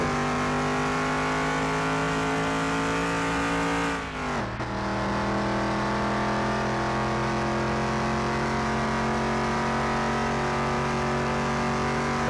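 A slow car's engine hums loudly and continuously on a track in Car Mechanic Simulator 2021, with a short dip and gear shift early on before settling into a sustained, even drone through cornering.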